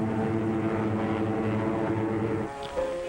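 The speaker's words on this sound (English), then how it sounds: "Your own American P-47, the Thunderbolt, side by side with a graceful spit." WWII fighter aircraft, an American P-47 Thunderbolt and a Spitfire, flying with a steady, droning propeller engine roar that holds loud and continuous before easing slightly near the end.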